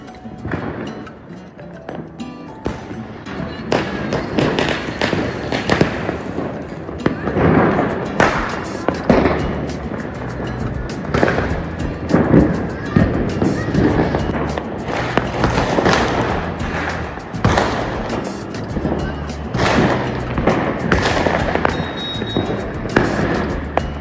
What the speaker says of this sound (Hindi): आप देखो कितने सारे पटाखे फूट रहे थे।